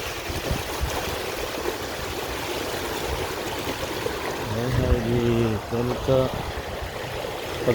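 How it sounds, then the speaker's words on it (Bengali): Floodwater rushes past in a continuous strong gushing flow, close and steady, while people talk over it in the latter part. "অনেক পানি আসছে।"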